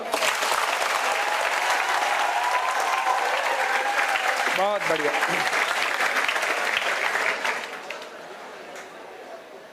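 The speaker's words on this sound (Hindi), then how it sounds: "तालियां जोरदार बजाओ।" A crowd at a Hindi-language political gathering claps loudly and steadily for most of the stretch before easing off near the end, with voices and brief speech heard through the applause.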